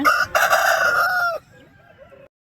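A rooster gives one loud, close crow at a busy poultry market in Nallapadu, the call holding strong for over a second before breaking off, followed by fainter background clucking.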